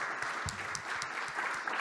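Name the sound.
audience applause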